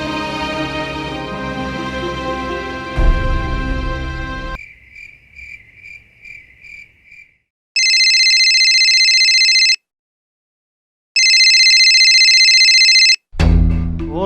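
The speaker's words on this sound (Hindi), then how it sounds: "और ये बल्लू फोन क्यों नहीं उठा रहा है?" A telephone in a household drama scene rings loud and clear in two long bursts separated by a short silence, following a stretch of music and softer tones.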